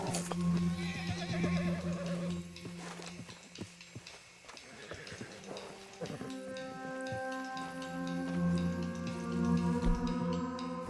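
A horse whinnies loudly in long, wavering cries, with some knocking and shuffling sounds mixed in.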